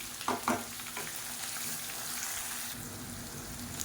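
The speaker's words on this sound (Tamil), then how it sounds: "இப்போ பாருங்கள், வெங்காயம் பூண்டு நல்லா வதங்கிடுச்சு" Onion, garlic and slit green chillies sizzling steadily in hot oil for a South Indian fish curry, a continuous close hiss with a few sharp stirring clicks near the start.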